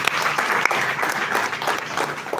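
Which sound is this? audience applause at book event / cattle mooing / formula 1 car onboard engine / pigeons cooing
audience applause at book event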